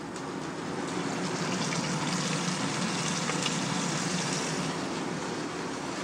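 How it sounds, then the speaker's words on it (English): Rabbit front and hindquarters are sautéed with smoked bacon lardons in a wide pan, producing a steady, even sizzle that holds throughout at moderate volume, with no talking. "The front and hindquarters are braised, which begins by sautéing with lardons of smoked bacon."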